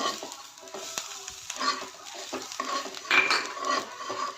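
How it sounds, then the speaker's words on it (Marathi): Crushed peanuts are stirred into golden fried onions in a pan, giving a soft sizzle under repeated scraping and clinking of the spoon against the metal, close and uneven in rhythm. "यामध्ये आपण शेंगदाण्याचे कूट टाकू आणि चांगले हलवून घेऊ पुन्हा एकदा"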